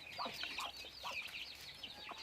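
Hens with chicks in the shade on a small poultry farm give repeated short clucks, near and overlapping in a loose, uneven rhythm, with no voices.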